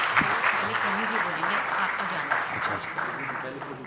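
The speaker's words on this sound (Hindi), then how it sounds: "तो निधि कुलपति जी का आप तालियों से स्वागत करें।" Audience applause at the Pandit Haridutt Sharma award ceremony, 2017, welcoming an honoree: a steady, dense wash of clapping that runs the whole time with a voice faintly underneath.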